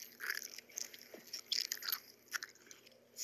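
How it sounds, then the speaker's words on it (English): Someone chews bubblegum close to the mic, giving soft, wet, irregular smacking and crunchy clicks at a low level, with no talk. "Stop chewing your bubblegum."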